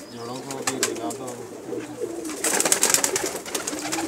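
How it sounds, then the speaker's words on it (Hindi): Pigeons kept as a hobby on a rooftop coo softly up close while someone talks over them, with light fluttering and scuffling in the background. "तो बहुत अच्छे कबूतर हैं माशाल्लाह इनके पास"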